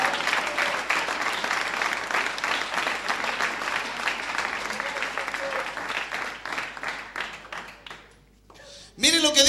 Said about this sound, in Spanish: ¿Cuántos le dan un fuerte aplauso al Señor de alabanza?